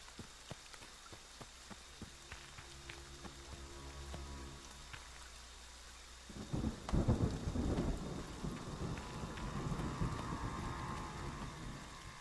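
Rain falls steadily on a rainy map in a video game, with a deep roll of thunder breaking in partway through and the downpour growing heavier afterward.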